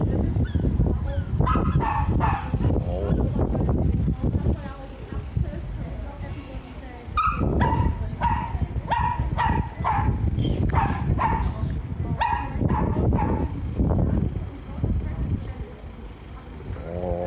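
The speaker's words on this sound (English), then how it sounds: "Little doggy missed his daddy." A small dog barks and whimpers in repeated yips and whines, close and fairly loud, spread across the stretch over a steady low background and with talk at points.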